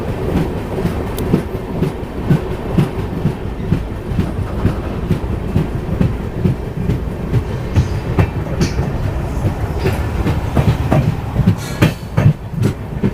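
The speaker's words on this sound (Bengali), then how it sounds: "আমাদের ট্রেন ছেড়ে দিল" The Kanchan Kanya Express (13149) rolls steadily along the tracks between Siliguri and New Mal Junction with a continuous rumble and rhythmic clicking of wheels, plus occasional sharper clacks, loud and close throughout.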